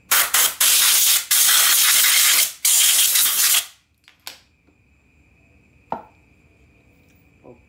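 Cleaner is sprayed onto a Toyota Soluna car AC compressor in loud hissing bursts, several short blasts and longer sprays over the first few seconds, followed by quiet with a few faint clicks and taps.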